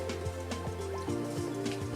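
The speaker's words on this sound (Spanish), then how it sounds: "Vamos a llenar con agua, ya está lleno" Water being poured into a glass pycnometer in a laboratory, a short run of rising gurgling, bubbling tones as the small flask fills, close and quiet, with no talking.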